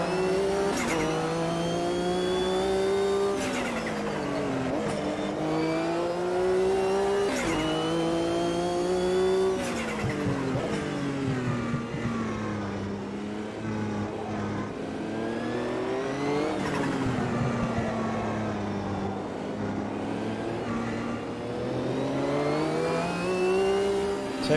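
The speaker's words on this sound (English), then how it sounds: "these cars sound amazing. The GT cars as I go by them sounds real cool" GT race cars in the racing game Automobilista 2 roar close by, engines climbing and dropping through gear changes, with shifts, occasional tire squeal and other cars passing.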